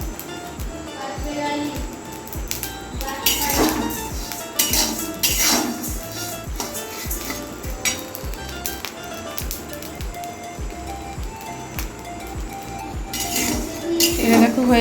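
Ration rice is dry-roasted in a metal pan, with repeated clinks, taps and scraping from stirring in an uneven rhythm, and a voice speaks now and then over the kitchen clatter.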